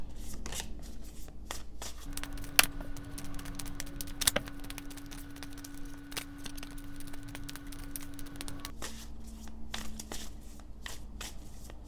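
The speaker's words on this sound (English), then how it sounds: "And let's just shuffle a few more times and then we'll get into it." Tarot cards being shuffled, with soft continuous riffling and rustling close by and a couple of sharper snaps, quiet and steady under a faint background hum.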